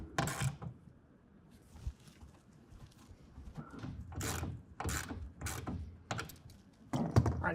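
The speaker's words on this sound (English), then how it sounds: "we can go ahead and tighten down our center clamps" Clamps on a TruXedo TruXport soft roll-up tonneau cover being tightened down on a 2024 Ford F-150 bed, giving a series of close ratcheting clicks and mechanical bursts spaced out over several seconds.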